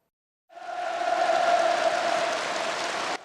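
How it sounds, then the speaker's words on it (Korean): About ten thousand North Korean Workers' Party cell secretaries in a large hall burst into fervent cheering and applause. A roaring crowd starts suddenly and holds a sustained, chanting-like tone before cutting off. "북한 노동당 최말단 간부인 세포비서 1만여 명이 열렬히 환호하는 가운데"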